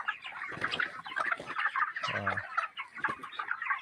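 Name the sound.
broiler chickens clucking in a cage farm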